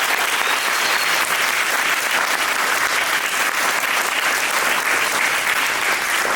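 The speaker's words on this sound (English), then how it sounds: "Another big round of applause for Sunny." A seminar audience gives Sunny a big round of applause, a loud, continuous roar of many clapping hands that stays even from start to finish with no talk over it.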